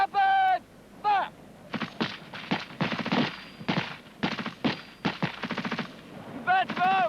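Rapid rifle and machine gun fire rattles through a section training drill, dense bursts of sharp reports, with shouted voices at the start and end.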